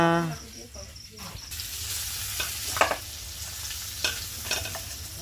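Quiet, continuous sizzling of pointed gourd frying in oil, with a few sharper crackles and pops; a brief tonal sound at the very start.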